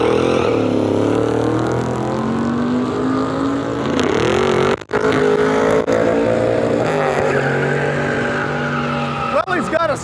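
A drag race car at a Tucson Duct Tape Drags event spins its tires at launch, with a loud continuous roar of revving engine and screeching tire squeal that swells and shifts over several seconds.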